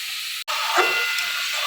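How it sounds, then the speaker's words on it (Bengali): Vegetables fry in a pot for khichuri, giving a close, steady broadband sizzle and hiss. A momentary dropout interrupts it near the start. "এখানে যে খিচুড়ির জন্য সবজি ভাজা করছি"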